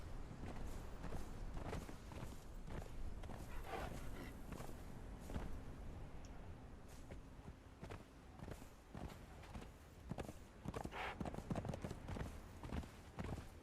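Horse hooves clip-clop in the Conan Exiles video game, a steady run of soft repeated footfalls under a dense layer of game ambience and effects, continuing throughout at moderate loudness.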